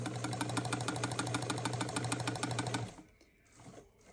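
A sewing machine stitches fabric at a steady fast rhythm, humming and clattering close by for nearly three seconds before stopping abruptly, followed by faint handling sounds.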